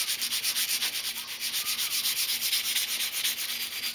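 A knife edge drawn over sandpaper in rapid back-and-forth strokes, a continuous close scraping hiss with a regular stroke rhythm, no voices.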